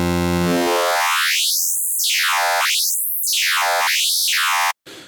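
A bright, buzzy FM Pulse wavetable synthesizer tone in Arturia Pigments sweeps up and down in pitch several times in a repeating wobble, loud and alone, cutting off abruptly.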